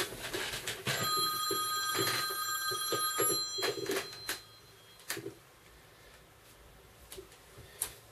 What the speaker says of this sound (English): Excuse me for the phone call